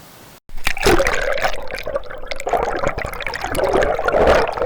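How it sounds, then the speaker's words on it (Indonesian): On a mountain trek through mossy forest on Mount Binaiya, hikers wade across knee-deep rivers. Water splashes and churns close by in uneven, sloshing surges as feet and legs push through the current, with a steady rushing flow underneath. "kami menyeberangi beberapa sungai setinggi lutut orang dewasa"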